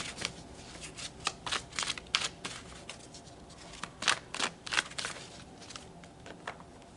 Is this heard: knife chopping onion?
no